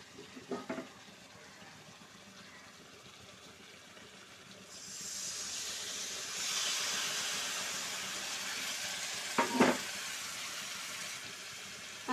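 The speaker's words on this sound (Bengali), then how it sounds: "মধ্যেই কিন্তু দিয়ে দেব সেই তেঁতুল গোলা জলটাও" Amra (hog plum) pickle cooking in a pan gives a soft, steady sizzle and bubble that swells midway as tamarind water goes in, broken by a few brief clatters of stirring.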